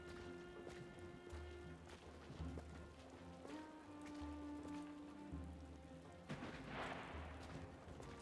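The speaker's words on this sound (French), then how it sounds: "Là, il pleut et tout." Rain falls steadily in the medieval strategy video game Wartales, a continuous hiss of patter blended with low game tones and occasional sharper drops, with no one talking.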